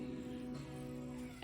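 A cat in a shop gives a single soft, short meow, faint against quiet indoor room noise.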